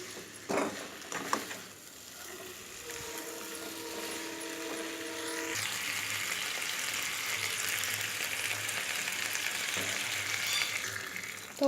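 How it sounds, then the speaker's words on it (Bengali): Water poured into jackfruit curry frying in a pan, a sudden loud hiss and steady sizzle that rises after a few seconds of quieter clinking and stays strong to the end. "এবার আমি পরিমাণ মতো জল দিয়ে দেবো।"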